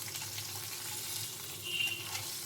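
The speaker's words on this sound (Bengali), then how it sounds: "একে একে সবজিগুলো ভেজে নেব" Oil frying in a kadai gives a soft, steady sizzling hiss that runs unbroken and fairly quiet throughout.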